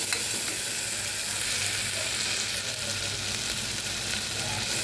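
Green and red chilies with turmeric, coriander-cumin and garlic chili paste crackle in hot oil, a dense, steady sizzle close by with light stirring throughout and no one speaking.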